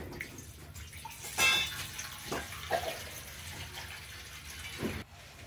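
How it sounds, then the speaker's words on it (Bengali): Hot water poured for melting jaggery, a steady gushing flow with a few louder splashes, alone and fairly close in a home kitchen. "এবার মা গরম জল দিয়ে পরিমাণ মতো গরম জল নেবে"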